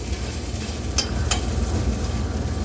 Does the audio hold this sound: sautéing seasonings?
yes